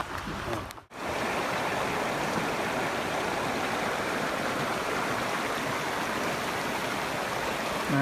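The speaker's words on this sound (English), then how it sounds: "That's a nice little beach on the river here." A river rushes past a small beach as a steady, full wash of flowing water, close and continuous after a brief dip at the start, with no talking.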